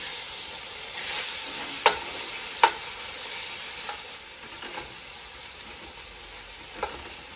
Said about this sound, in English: You need to stir it occasionally.